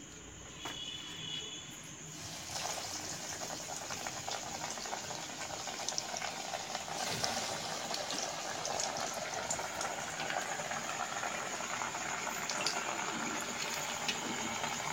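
Fish cutlets dropped into hot oil give a steady, dense sizzle and crackle that starts after about two seconds and holds at an even level, close by.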